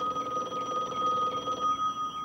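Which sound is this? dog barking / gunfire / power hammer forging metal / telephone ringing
telephone ringing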